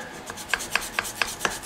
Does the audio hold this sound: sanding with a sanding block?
yes